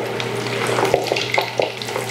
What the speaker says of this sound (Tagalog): At itutuloy natin ang pagprito dun pa sa ibang liyempo na meron tayo.